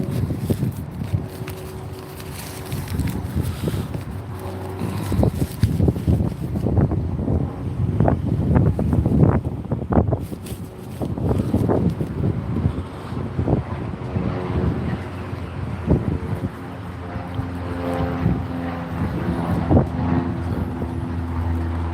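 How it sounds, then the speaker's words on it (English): Outdoor wind buffets and roars across the microphone in uneven gusts, loud and close, swelling and easing throughout with a low rumble beneath. "They've kicked the wind up."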